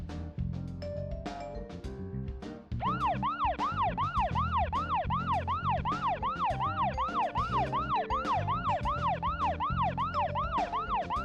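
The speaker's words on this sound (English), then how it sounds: "The siren." A police-style siren wails in the video game Deadly Premonition: Origins while the player drives. Steady, rapidly repeating rising-and-falling sweeps continue loudly after a brief lower engine-like passage.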